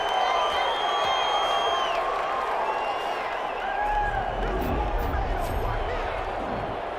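A crowd of Portland Snowhawks fans roars and cheers at a football game, a dense, steady wash of voices with whoops, while a commentator talks over it.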